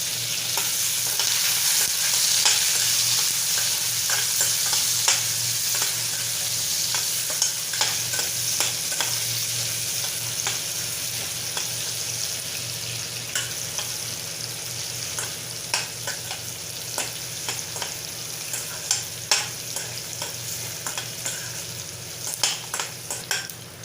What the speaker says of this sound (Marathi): हिंग कांदा घालायचा कांदा थोडा परतून घ्यायचा